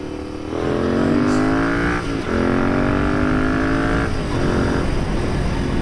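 Royal Enfield Interceptor motorcycle accelerating hard, engine pitch climbing steadily, dropping briefly at two gear changes and rising again, loud and close with steady wind rush throughout.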